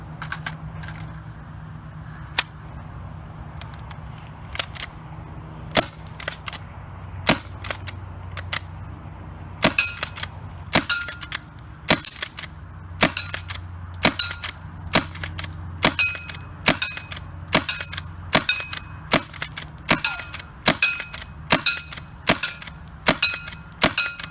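A Tacamo pump paintball marker firing round after round outdoors, sharp cracking pops spaced about a second apart, sparse at first and then in a steady, quicker rhythm, loud and close.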